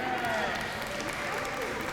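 Audience at a Women's History Month closing ceremony applauding in a continuous, even round of clapping filling the room, with voices mixed in underneath.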